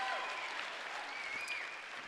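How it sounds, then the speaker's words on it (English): A crowd applauds steadily, a dense wash of clapping that holds at an even level throughout. "Give yourselves a round of applause for that."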